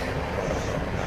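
A steady, droning engine rumble from a helicopter in the Deadlight video game, continuous and fairly loud with no other sounds.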